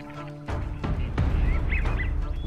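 Ducks in the Santee Delta wetlands of South Carolina give loud, close honking and quacking calls in overlapping bursts over a steady outdoor background.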